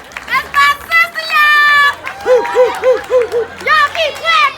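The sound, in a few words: audience clapping and cheering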